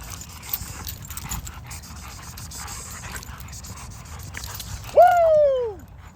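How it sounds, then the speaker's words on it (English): An XL Bully from a Pro Bulls bloodline pants steadily for several seconds, then lets out a loud, drawn-out whimpering whine up close. "she is a Pro Bulls blood dog"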